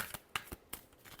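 Tarot cards being shuffled, with quiet, soft riffling taps and flicks repeating in a loose rhythm, close and faint.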